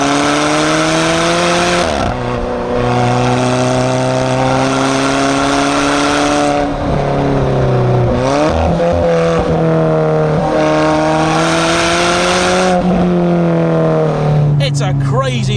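A carbon-tub sports car with improved suspension drives hard along a British B-road, its engine loud and close, climbing through gears with clear revving shifts, while someone talks over it.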